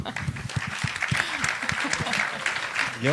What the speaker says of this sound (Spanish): Un aplauso para el replicante